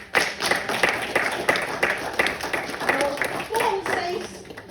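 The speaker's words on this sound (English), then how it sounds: "We give clap offering." Church congregation clapping together as a clap offering during a sermon, a steady run of handclaps mixed with voices throughout.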